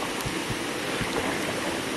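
Water rushes at the center of Aohua Waterfall, a steady broadband roar heard up close, even and unbroken, with no voices.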